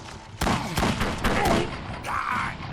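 Gunfire in the Battle Realms CSGO mod, a 4v4 team deathmatch, comes as a quick run of loud, sharp shots close by, several reports in a burst.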